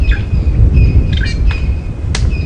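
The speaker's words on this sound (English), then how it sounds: "The drongos are the loudest and the closest to us, and that's just because they are fluttering about catching the insects." Drongos calling near a safari vehicle at Djuma Game Reserve, several sharp metallic chirps and whistles repeating over a low rumbling background, close and prominent.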